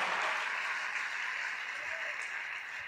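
A church congregation at a prayer meeting breaks into fairly faint applause, a soft, steady wash of many hands that thins slightly toward the end.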